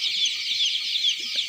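Young ULU chicks on a chicken farm cluck and peep steadily in a dense, continuous chorus, with a few softer low calls underneath and no talking.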